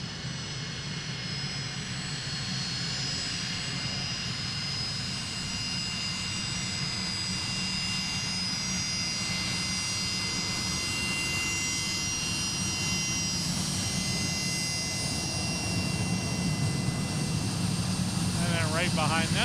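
A private jet takes off from runway 32 left at Boeing Field, its engine roar a steady, broad rumble from a distance that holds for the whole stretch, with air traffic radio chatter running over it.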